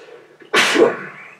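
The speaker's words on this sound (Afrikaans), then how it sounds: "Hoe oorval so nies my." A single sharp sneeze from a person indoors in a studio, near and loud, preceded by a brief inhale.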